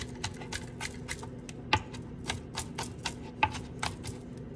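Knife roughly chopping food on a cutting board while making a falafel dinner, a series of quick, light, irregular taps heard close and quiet.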